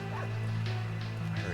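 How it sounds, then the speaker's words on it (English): Dog barking and yipping in a video game, a few short barks riding over a steady low hum of game ambience, moderately close. "I hear a dog."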